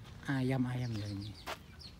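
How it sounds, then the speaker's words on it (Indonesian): A chicken at a poultry enclosure on Pfaueninsel in Berlin gives one close, drawn-out clucking call, followed by a short burst of noise in an otherwise quiet setting. "Kayak peternakan ayam."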